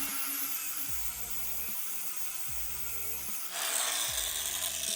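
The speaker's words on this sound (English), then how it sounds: "then you get obviously the flapper wheel" A flap wheel on a power grinder sands the cut edge of a roller shutter sport bar for a GWM Cannon ute, a steady high whirring grind with short repeated passes and faint low clunks, close and alone.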